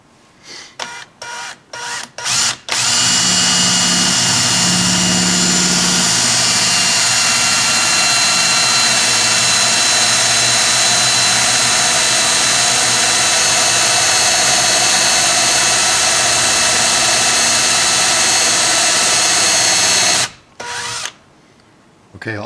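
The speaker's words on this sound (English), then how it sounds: "wobble your drill inside the hole to ream it out a little bit before you go to the next size up" A power drill bores into a ferro rod, wobbled inside the hole to ream it wider, running as a loud steady whine for most of the clip after a few short bursts, then stopping and restarting briefly at the end.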